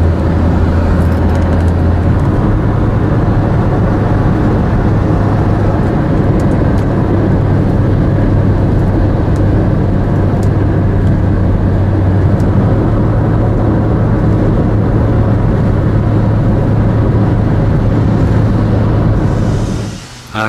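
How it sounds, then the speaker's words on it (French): A gas- and diesel-powered truck rumbles along in Thai road traffic, a loud, continuous low engine drone that holds steady for a long stretch and drops off briefly at the very end. "un grand nombre de véhicules roulent au gaz et au diesel, comme ce camion"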